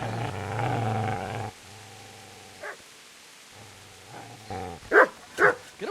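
A dog in the video game Kingdom Come Deliverance gives two sharp, close, loud barks near the end, after low rumbling growls and quieter stretches.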